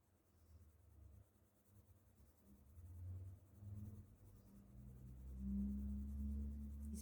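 Soft, scratchy strokes of colored pencil on paper, close and quiet, rising and falling in steady back-and-forth bursts with no talking.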